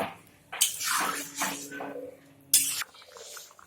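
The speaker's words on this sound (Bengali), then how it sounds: "দিয়ে দিচ্ছি জল একটু জল বেশি করে দিচ্ছি কারণ ব্রোকলি আর আলু এখনও সিদ্ধ হয়নি" Water is splashed into a cooking pot for a rohu fish curry with broccoli and potatoes, in two short, close pours with splashing bursts, alone.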